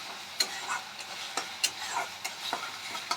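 Sliced onion fries in a pan with a faint sizzle, while a spatula stirs and taps against the pan in scattered, crisp scrapes. No one speaks.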